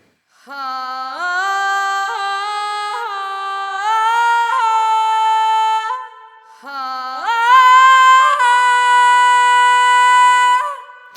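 A solo voice sings long sustained notes in two phrases with a short pause between, close and dry with little room echo.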